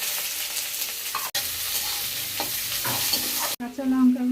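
Sliced onions and whole cumin seeds fry in a little oil in a wok, a close, steady sizzle with scraping stirring strokes, and a brief tonal sound near the end.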